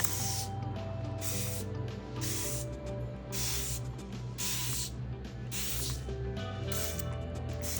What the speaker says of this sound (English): I'm going to take the spray bottle and I'm going to spray it on my coffee filter